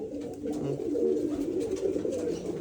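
Pet pigeons, two of them, cooing softly in a low, soft warble that continues for a few seconds over a dull background hum.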